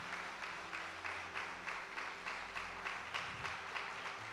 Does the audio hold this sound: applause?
yes